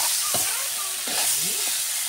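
A steady hiss and sizzle from taro and meat curry cooking in a pan with the spoon moving through it, loud and continuous, with faint voice-like sounds over it.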